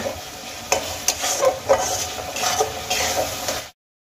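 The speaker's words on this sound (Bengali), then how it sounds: "এবার আমি মশলাগুলোকে খুব ভালো করে কষিয়ে নেব।" Spice masala for aloo dum sizzles in a pan while a spatula stirs it, with repeated scraping strokes over a continuous crackle before it cuts to silence.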